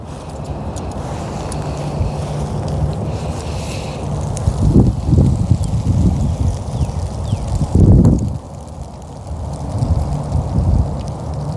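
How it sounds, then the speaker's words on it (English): Wind gusting outdoors in a Florida zone 9B flower garden of tulips, hyacinths, daffodils and hibiscus, a steady broad rush with stronger low buffeting bursts around the middle and later, no talk. "it's windy"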